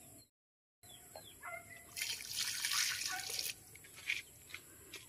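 Water poured generously from a container to soak potted plants, a splashing, gushing burst that swells in the middle and then tapers into scattered drips and trickles, close by with no talk.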